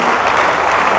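Loud, close applause from a church congregation celebrating its leadership-school graduates, a thick continuous roar of clapping hands that holds steady throughout with no talk on top.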